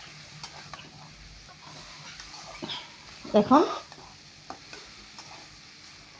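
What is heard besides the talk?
Maggi noodles stir-frying with onion and chili in a wok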